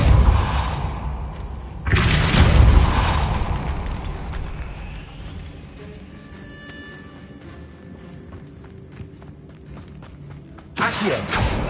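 The Depulso force spell in Hogwarts Legacy on PS5 lets off loud, booming blasts, one at the start, another at about two seconds and a third near the end, with quieter rumbling and thuds between them.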